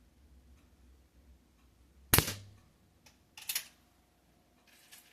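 An Umarex Ruger Mark IV .177 air pistol fires a pellet at a 7-yard target: one sharp, close crack, then a softer snap about a second later, with quiet between.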